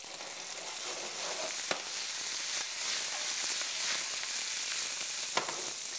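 Vegetables sauté with garlic, basil, salt and pepper in a pan, giving a steady close sizzle and hiss with occasional stirring clicks and scrapes.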